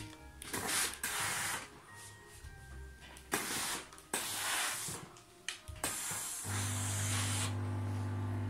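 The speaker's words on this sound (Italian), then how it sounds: "Questo rumore è quando carica la caldaia, perché c'è due caldaie praticamente in questo ferro da stiro." Braun CareStyle3 IS3022 steam iron system charging its boiler, giving off bursts of spraying hiss that come and go, with a steadier hum and hiss building toward the end, fairly close.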